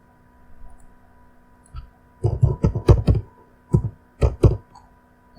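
Computer keyboard keys clicking on a Windows PC, a quiet lone tap followed by a quick burst of several keystrokes and two more pairs of clicks, close and fairly crisp with no talking.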